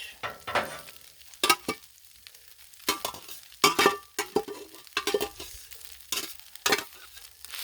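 Pork fried rice sizzles on a Blackstone griddle while a spatula scrapes and stirs it in irregular bursts. The scrapes and metal clinks stand out close over the frying hiss.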